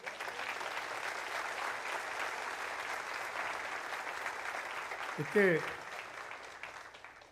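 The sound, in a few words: applause for a man in the audience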